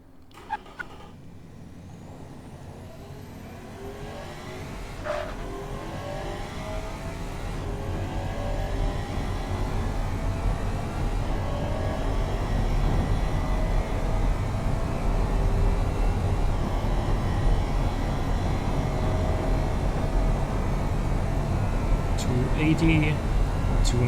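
A 2016 Athena CL9 in the game Automation accelerates hard, its engine note climbing in repeated rising sweeps that grow steadily louder and fuller over about twenty seconds, with a dense continuous roar underneath.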